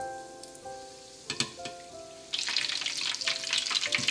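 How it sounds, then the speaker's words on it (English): Quiet at first with soft tones, then a sudden burst of sizzling as chicken croquettes are lowered in a spider skimmer into hot oil, settling into a steady bubbling crackle. "I'm going to insert it to the hot oil"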